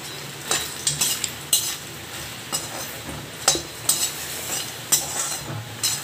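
Makhana (fox nuts) roast in desi ghee in a pan with a steady soft sizzle, while a spoon stirs and scrapes the metal in irregular clinks.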